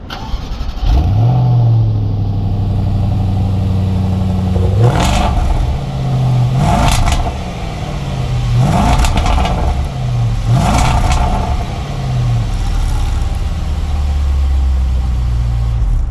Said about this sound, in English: What exactly does that sound like when you fire this 5-liter supercharged V8?